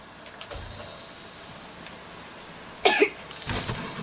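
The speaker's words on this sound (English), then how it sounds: "seems I have a cough" A single cough inside an Among Us game round with Happy Tree Friends characters, a brief burst near the end of an otherwise quiet stretch, followed by softer rustling.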